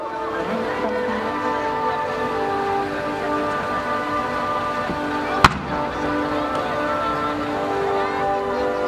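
A gold-flashing silver willow butterfly firework shell bursts over a harbour display, a steady crackling shimmer of sparks with one sharp loud report midway, rushing on continuously throughout.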